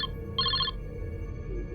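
A single short burst of a telephone bell ringing, a bright trilling ring lasting under half a second over a low, steady background hum.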